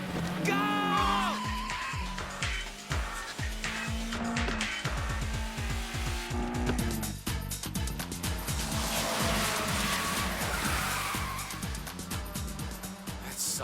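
Initial D race cars launching on a wet downhill road in the rain, including a Nissan S14, with a continuous loud engine roar and rising revs, tire noise and spray hiss building over several seconds, no speech.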